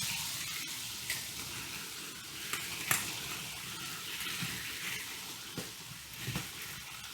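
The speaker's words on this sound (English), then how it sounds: "At this point, I'm also gonna throw in the kimchi." Kimchi hits a hot pan for kimchi fried rice, giving a steady soft sizzle and frying hiss with a few sharp clinks and stirring knocks scattered through it, close by and alone.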